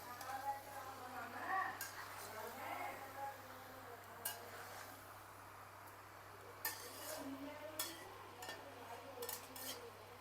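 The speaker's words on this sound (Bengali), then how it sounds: "এটা খালি নাড়ে নেড়ে নেড়ে নেড়ে করতে হবে" A chicken curry being stirred in a pan, with repeated scraping and clinking of a spoon against the metal over a low sizzle, and sharp clinks at irregular intervals under faint background music.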